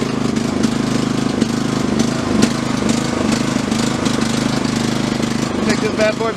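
A cheap Troy-Bilt riding lawn mower's gas engine runs steadily up close, a loud continuous mid-pitched drone with some clatter throughout.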